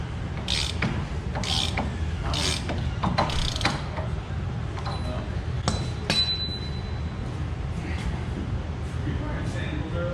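A wrench tightening the wheel bearing spindle nut on a Jeep Wrangler gives intermittent ratcheting clicks and metallic clinks in short bursts, with a voice talking over the work.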